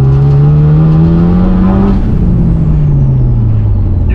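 A turbocharged Honda engine on a dyno revs loudly and continuously, its pitch climbing and then sinking back with a steady harmonic whine throughout and no voices over it.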